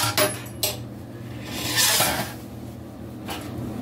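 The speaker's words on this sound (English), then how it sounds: "I'm going to go ahead and put this on my cookie sheet and get ready to cook it" Keto cookie dough is scraped and set down onto a silicone cookie sheet, giving soft rubbing and scraping sounds with a few light clatters of a utensil against a pan, close by and without speech.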